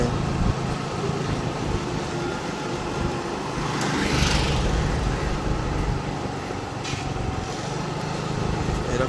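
Vehicle traffic along a town street at night, a continuous engine rumble with a nearer vehicle swelling past midway, against steady roadway noise.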